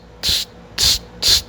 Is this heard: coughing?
no